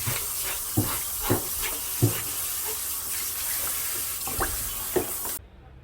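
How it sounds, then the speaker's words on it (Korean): A tap runs steadily into a sink while a flatfish is rinsed under it, a constant hiss of flowing water broken by several soft splashes and knocks before the flow cuts off near the end. "흐르는 수돗물에 이렇게 씻어요"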